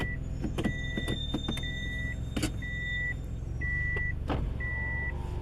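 A garbage truck arriving and reversing nearby, its backup alarm beeping steadily at an even pace over a low engine rumble, with several scattered knocks and clanks between beeps.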